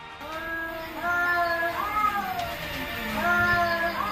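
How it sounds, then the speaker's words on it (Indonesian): Cats fighting at night in Bali let out long, wavering caterwauls and yowls, overlapping drawn-out cries that rise and fall, fairly close and clear against a quiet background. "Itu sih suara kucing berantem."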